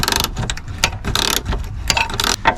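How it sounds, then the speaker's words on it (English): A spanner works a rusty rear axle beam mounting bolt on a Fiat Panda, thread sprayed with WD-40, producing rapid, loud metallic ratcheting clicks in uneven bursts close to the microphone. "just loosening this main rear axle beam mounting bolt here on the near side"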